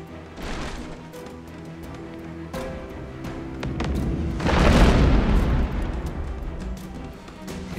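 Ship cannons firing in the naval combat game Abandon Ship, with deep booms rolling over a steady battle din and a heavy blast swelling near the middle before fading.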